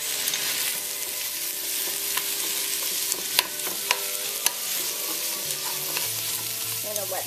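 Garlic and onions fry in a pan as the base for a Vietnamese beef stew, producing a continuous sizzle with sharp occasional pops and crackles, close up, with no talking.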